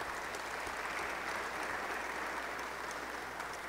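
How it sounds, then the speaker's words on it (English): Steady, fairly soft audience applause at an introductory press conference as a university vice chair and professor emeritus stands to be recognized. An even wash of clapping fills the whole stretch. "Let's give Herman a round of applause."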